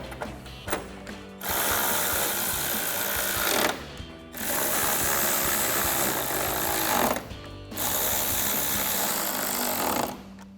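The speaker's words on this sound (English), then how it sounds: "we'll grab our 10mm socket to tighten those down" A 10mm socket on a ratchet tightening headlight bolts on a 2019-2023 RAM 1500, heard as three long, loud, close bursts of steady mechanical whirring separated by short pauses, no talking.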